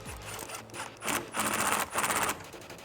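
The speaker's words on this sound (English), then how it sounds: "grab your socket again and tighten down this clamp." A socket wrench tightening the hose clamp of a cold air intake onto the MAF housing of a 2011-2014 Mustang GT, a few short rasping ratchet bursts close by, separated by brief pauses.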